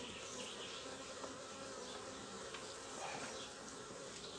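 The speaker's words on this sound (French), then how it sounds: "les butineuses commencent à rentrer" Honeybee foragers returning to an opened hive fill the air with a steady, dense buzzing hum of many wings, continuous and fairly close, with no talking.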